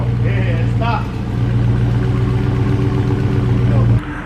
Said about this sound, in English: now that you guys heard that stock exhaust again start up